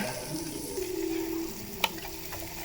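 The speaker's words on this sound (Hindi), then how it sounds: "I will pour this tadka on chicken" Hot tempering oil (tadka) poured over chicken sizzles and crackles steadily, with a brief sharp clink partway through; no talking.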